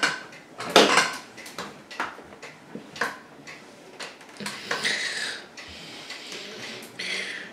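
Dishes, plates and cutlery clink and clatter in irregular bursts as they are handled close up beside an Electrolux dishwasher, with small knocks and scrapes in between.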